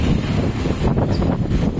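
Steady wind blowing in from the beach in Pondicherry, a continuous low rushing roar with slight gusty swells throughout, fairly loud and close to the microphone, with no voices.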